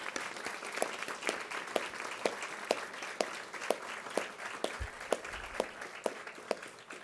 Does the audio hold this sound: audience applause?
yes